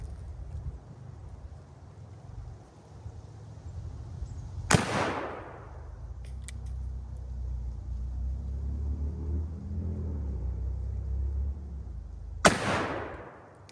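Two sharp, loud shots from a Colt 1860 Army black-powder revolver firing a Kerr bullet, spaced about eight seconds apart, each with a booming outdoor echo and a low rumble between them.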